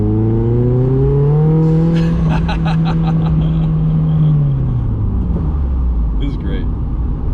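A new car accelerates at full throttle, its engine note climbing then dropping through gear changes, loud and close inside the cabin, with excited voices talking over it.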